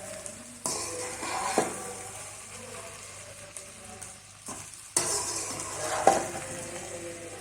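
Chicken fried rice being stirred and tossed in a hot pan, with a steady soft sizzle under repeated scraping and clattering strokes of a utensil against the metal, a few sharper knocks standing out, close and moderately loud.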